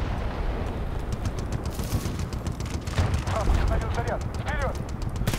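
Gunfire in Battlefield Bad Company 2, rapid bursts of shots with rumbling battle noise, dense and continuous, with a voice talking over it.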